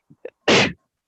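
A person sneezes once indoors: two quick catching inhales lead into a single loud, sharp burst that cuts off into silence.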